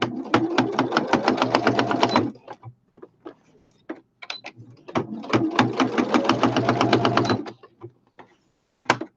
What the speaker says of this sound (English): So let's stitch this down, straight stitch